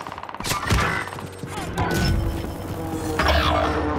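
Gunfire from Call of Duty Warzone, loud bursts of rapid shots and sharp cracks with impacts, dense and continuous across the clip, with players' voices talking over it.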